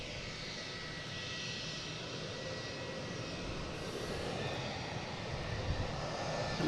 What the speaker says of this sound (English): And that's Aer Lingus Flight 137, A330-300.